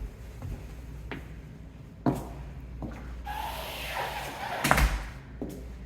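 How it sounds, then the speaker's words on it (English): A door is shut and locked in a rental property, with several sharp thumps and clicks spread apart, a sliding scrape, and a louder knock near the end, close and without talking. "close that door and lock it off"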